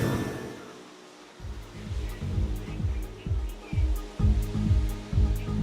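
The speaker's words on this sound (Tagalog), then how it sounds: "Bataan ay tuloy-tuloy yung buhos ng ulan pagpatak ng alas 9 ng gabi kanina." Heavy rain pours steadily at night in Limay, Bataan, a dense wash of noise with repeated low thumping gusts or wind buffeting close to the microphone, with no talking.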